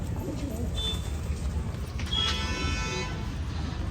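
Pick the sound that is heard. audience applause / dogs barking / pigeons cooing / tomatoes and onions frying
pigeons cooing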